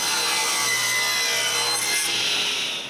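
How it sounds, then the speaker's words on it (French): Wood boards are cut to length for the four sides of a small pharmacy cabinet door frame, a loud, steady sawing roar lasting about three seconds with no talking. "je coupe assez de bois pour faire les 4 côtés"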